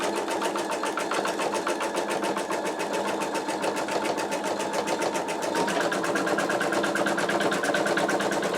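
An embroidery machine stitches a tack-down line over stabilizer in a magnetic 8x8 inch hoop, a steady rapid mechanical whirring and ticking that runs close and continuous, growing slightly louder partway through.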